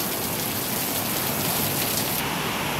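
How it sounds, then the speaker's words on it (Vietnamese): Steady rain pours down on a stormy day in the Vietnamese countryside near flattened rice fields, a dense, close, continuous hiss with no voices. "Mưa ở nhà nhìn thấy mưa không?"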